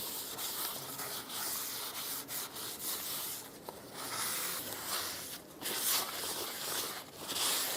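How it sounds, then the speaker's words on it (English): A rag rubs and wipes down the drum of a 2007-2013 Chevrolet Silverado 1500 rear brake after a spray of brake parts cleaner, a close, continuous scrubbing with repeated strokes and no talk. "Just take a rag and just wipe it."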